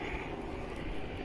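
Helicopter flying overhead at a home building site, a steady broad engine and rotor drone, fairly loud and continuous throughout with no talk.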